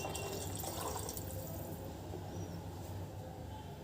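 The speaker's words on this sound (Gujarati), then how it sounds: "4 ગણું પાણી ઉમેરીશું." Water poured into a cooking pot for daliya khichdi makes a steady, continuous splashing rush that sits close and fairly loud, easing slightly toward the end.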